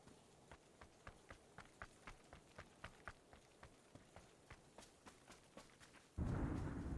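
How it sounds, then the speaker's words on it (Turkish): Thunder in the video game PUBG breaks suddenly near the end as a loud, broad crack and rumble, after several seconds of quiet, evenly spaced soft taps like running footsteps. "Oğlum ödem koptun gök gürültüsüne"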